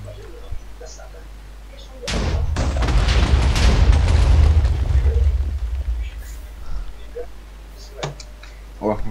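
A deep, heavy Minecraft explosion bursts out and rumbles for several seconds before fading, with quieter ambient tones and a few small clicks around it.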